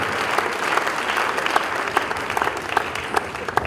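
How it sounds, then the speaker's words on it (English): A hall audience at the University of Nigeria, Nsukka applauds Professor Kingsley Moghalu with dense, continuous clapping that stays loud and close throughout, without any talk over it. "Please, another round of applause for Professor Kingsley Moghalu."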